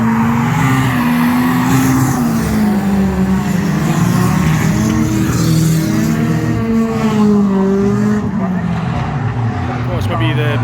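Stock car in a 2-litre banger race at Cowdenbeath, engine running rough and backfiring from a possible snapped timing belt, loud continuous engine roar with crackle over dense crowd and track noise, voices talking throughout.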